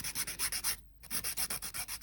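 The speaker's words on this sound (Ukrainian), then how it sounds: "і підпилюємо наш квадрат" A nail file rasps rhythmically against a square acrylic nail extension built on upper forms, about a dozen quick close strokes with one short pause in the middle.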